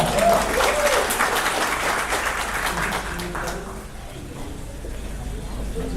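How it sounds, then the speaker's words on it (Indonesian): An audience at a networking seminar in Jakarta claps on cue, a brisk burst of applause that is dense at first, then thins out after a few seconds into low room noise. "Tepuk tangan dulu untuk Anda"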